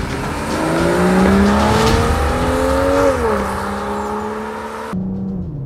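A BMW M440i G22 with a 275 kW inline-six drones steadily while driving on a country road, its pitch rising and falling with speed changes, over continuous road and tire noise.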